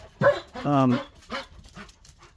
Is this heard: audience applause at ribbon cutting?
no